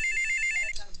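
A telephone ringtone chirps steadily for most of the moment during a comedy scene, then cuts off as a brief voice and room noise take over.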